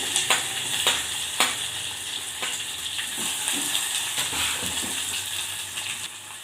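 Onions, green chillies and curry leaves fry steadily in hot oil with cumin and dried red chillies, a close continuous sizzle broken by repeated scrapes and stirring knocks of a spoon in the pan.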